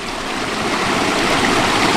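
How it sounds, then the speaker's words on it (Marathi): Clear spring water runs steadily down a village stream in Konkan, a loud, continuous broadband rush and gurgle close by with no voices. "स्वच्छ निवळ पाणी वरून झऱ्याचं पाणी होतं"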